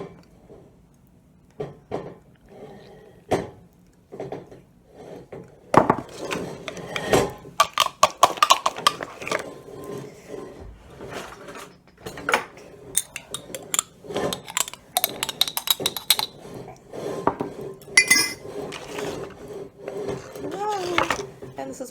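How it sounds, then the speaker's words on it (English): Naan dough made with yogurt, honey, banana and oil being mixed and kneaded by hand, with irregular sticky slaps, thumps and scraping that grow busier and louder over about twenty seconds. "So we're going to mix all that in here and then start kneading."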